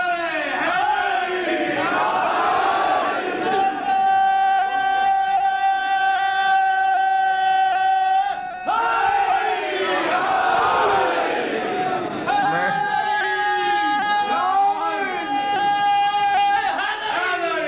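A large crowd at a Shia religious majlis in Multan chants slogans in loud rhythmic unison, voices surging and swelling in waves that fill the space continuously.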